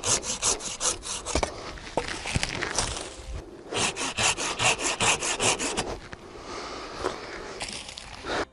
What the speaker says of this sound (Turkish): Öncelikle anacımızı şu şekilde ben kesiyorum arkadaşlar.